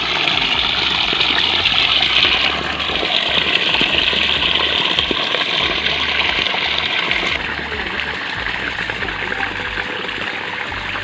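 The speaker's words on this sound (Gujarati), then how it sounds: "બહાર અહીંથી બહાર જાય છે પાણી" Irrigation water gushes and flows out of a field channel, a loud, steady rushing wash that continues throughout at close range with no talk.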